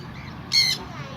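Caged or free-flying African birds at a bird lovers' club gathering in Khon Kaen, northeastern Thailand, give one short, loud, shrill squawk against a low murmur of background voices and ambient noise.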